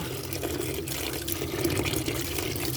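Large mushrooms are dropped into salted water to soak, giving a steady, close wash of sloshing and trickling water with no pauses.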